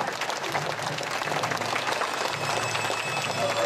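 Audience applause at a couple's wedding-vow ceremony during a doll-town festival in Iwatsuki, Saitama, a steady dense clapping that holds at even loudness for a few seconds, with voices mixed in.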